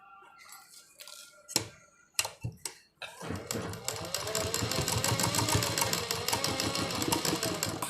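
Sewing machine stitching fabric: a few sharp clunks and knocks at first, then the machine runs in a steady, fast rattling rhythm, close and fairly loud.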